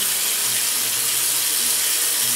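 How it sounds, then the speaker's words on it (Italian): Cold tap water runs into a sink while someone rinses their face during a winter morning routine, a loud, steady, close rush of flowing water with no talking. "Adesso la sciacquo con l'acqua fredda"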